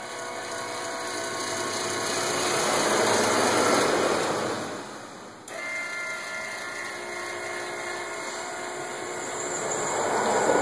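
A linear actuator drives the chute deflector on a snow blower with a steady motorized whir, near and continuous, broken by a short stop and restart partway through before it runs on.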